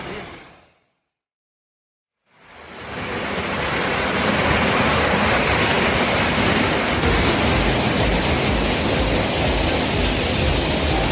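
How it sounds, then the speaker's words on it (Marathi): Small waterfall near Shahapur outside Mumbai, a loud, dense and steady rush of falling water that swells in after a brief silent gap and then holds constant up close. "आणि बघा हा छोटा वॉटरफॉल आहे"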